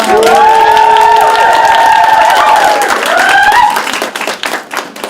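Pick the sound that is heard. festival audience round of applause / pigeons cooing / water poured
festival audience round of applause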